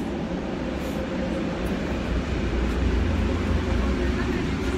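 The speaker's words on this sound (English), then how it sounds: "let's watch the tram go by again" A Budapest tram passes nearby, giving a continuous broad rumble and hiss of wheels on track that holds steady throughout, with no talk over it.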